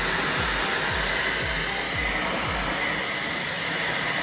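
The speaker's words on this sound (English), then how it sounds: "Now take a torch, light it up." A propane gas blow torch, model Ay-Ay AH-MB12, burns with a steady, loud roaring flame that fills the whole stretch, with a few low thumps early on and no talking.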